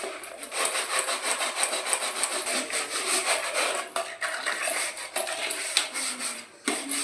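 A plastic mug and bucket scrubbed by hand to loosen hard iron deposits, heard as a steady rasping rub that runs nearly the whole time with brief pauses near the end.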